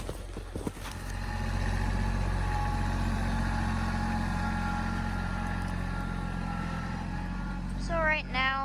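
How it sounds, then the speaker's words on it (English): A compact tractor's engine idles and runs steadily as it backs up to hook onto a log while skidding logs among trees, and a brief rising whine comes near the end. "So right now we are backing the tractor up to get hooked onto another log."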